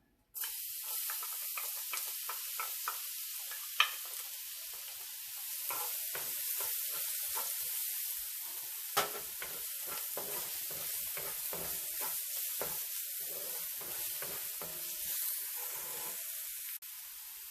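Garlic hits hot oil in a pan and crackles into a loud, continuous sizzle with scattered sharp pops that carries on steadily without pause.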